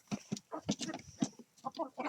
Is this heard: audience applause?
no